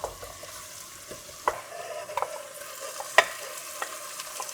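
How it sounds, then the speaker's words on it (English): Mutton pieces frying in plenty of oil for a spinach curry, a moderate sizzle with scattered spatula scrapes and knocks against the pan, near and unhurried. "And now we add in the mutton."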